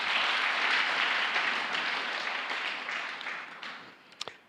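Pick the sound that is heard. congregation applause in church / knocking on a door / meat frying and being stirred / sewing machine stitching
congregation applause in church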